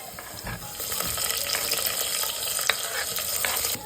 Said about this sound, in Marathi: मिरची हिरवी आता चांगलं शेकवायचं ते आता त्याच्यामध्ये कांदा ॲड करणार आहे